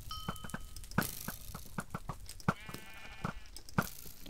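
Minecraft sheep bleat several times during a Sheep Wars match on the Epikube server, short nasal calls spaced across the clip amid sharp in-game clicks and taps.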